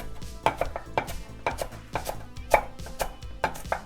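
Parsley chopped finely with a knife on a board, quick sharp knocks in an uneven rapid rhythm, close and clear, with no talking.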